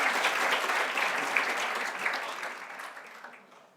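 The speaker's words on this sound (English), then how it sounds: "If everyone could just give a round of applause" Audience clapping at a rural conference as a speaker is welcomed to the stand, starting full and fading gradually over a few seconds.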